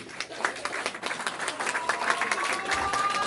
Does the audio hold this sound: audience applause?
yes